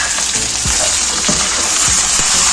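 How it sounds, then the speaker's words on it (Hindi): Tomatoes frying with onions in a hot pan, a loud, close, bright sizzle with several soft stirring thumps at irregular intervals. "प्याज के साथ टमाटर को फ्राई करेंगे ताकि टमाटर से सॉफ्ट हो जाए।"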